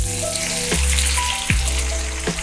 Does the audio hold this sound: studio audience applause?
no